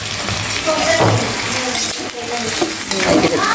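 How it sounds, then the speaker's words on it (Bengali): Pieces of duck meat fry in a pan until browned, giving a loud, continuous sizzle dotted with sharp pops and spatters, plus a few utensil clinks as it's stirred. "পটপট শব্দ হচ্ছে"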